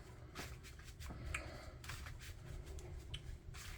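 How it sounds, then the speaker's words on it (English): Someone shuffles a Branded Bystial deck of trading cards by hand: quiet, quick riffling bursts with soft slaps and rustles, close and alone. "keep on shuffling, keep on shuffling, keep on shuffling"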